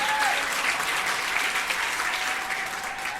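Loud, sustained applause from a live audience welcoming a comedian onto the stage at a radio show taping, a dense steady wash of many hands clapping that continues throughout.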